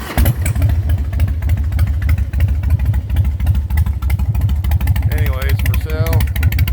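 A carbureted motorcycle with street sweeper exhaust pipes idles after a cold start with the choke pulled, a loud, deep, throaty, steady rumble throughout, close by, with brief faint background voices near the end.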